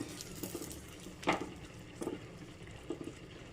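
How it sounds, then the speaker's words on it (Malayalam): A spoon stirs a thick curry with onions in a clay pot, giving soft, wet clinks and scrapes at irregular intervals, faint and close against a quiet background. "ഒന്നിളക്കി കൊടുത്തേക്കാം."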